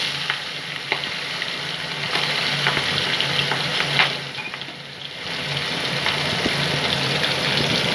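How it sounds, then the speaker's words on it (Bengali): Magur catfish fry in hot oil over a low gas flame, making a loud, continuous bubbling sizzle with scattered crackles that dips briefly near the middle, close to the pan and with no talking. "এখন মাছগুলো আমি ভেজে নিচ্ছি।"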